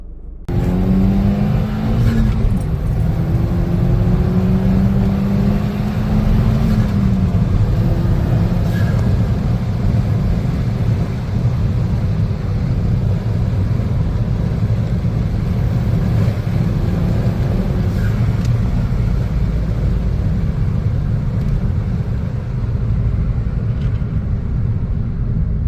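Car engine fitted with an aftermarket induction kit, revving loudly and steadily up close with rising and falling pitch sweeps and a constant throaty rumble, no voices.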